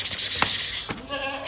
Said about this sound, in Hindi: सुप्रीम क्वालिटी का मक्खी चीना ब्रीडर बकरा